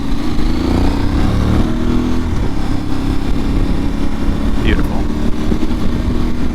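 Aprilia Tuareg 660 motorcycle ridden along a light gravel road, its engine droning steadily and loudly with shifting pitch, wind and road noise mixed in, and a voice talking briefly.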